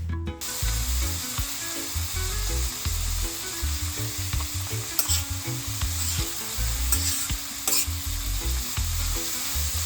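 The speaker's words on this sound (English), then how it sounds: "I'm gonna start frying up my the onions" Onions and garlic sizzle and crackle in a hot pan, a close, steady frying hiss with occasional clinks and scraping of a utensil.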